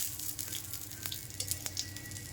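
Bitter gourd leaf fritters crackle and sizzle in hot oil on a stove, a steady close frying hiss with scattered sharp pops and no talking.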